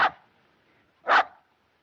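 A dog gives two sharp, loud barks about a second apart, each short and punchy, with near silence between and after them, in a 1938 film scene.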